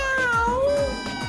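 A person imitates a cat's meow in a few drawn-out, wavering cries, loud and close, with no other voices alongside.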